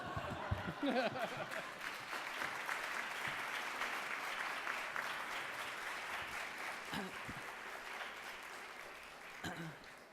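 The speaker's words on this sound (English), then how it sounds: "your applause is very welcome" Audience applause fills a keynote hall for the full length, steady and moderately distant, with a few brief voices and chuckles cutting through near the start and end.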